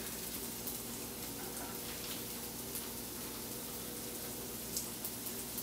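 Caramelized onions with a pat of butter frying in a pan give a steady, soft, hissing sizzle that stays even throughout, with occasional faint pops and no talking.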